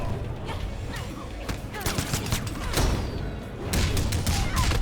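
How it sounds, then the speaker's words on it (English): Gunfire in the fighting game Mortal Kombat XL during a tournament top 8 match: loud, dense bursts of shots and heavy thuds over constant busy game and crowd noise. "That gunshot is a thing of nightmares"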